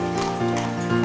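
Horses pulling carriages through the streets of Bruges, Belgium, with hooves clip-clopping steadily and close by, along with a brief whinny over a busy town background.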